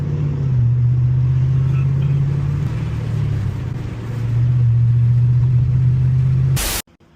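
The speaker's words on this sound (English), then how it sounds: "I'm about to be driving a manual GT right now" Manual-transmission Ford Mustang GT driving, its engine a steady loud low drone inside the cabin that dips briefly midway and then holds until a sharp burst and a cutoff at the end.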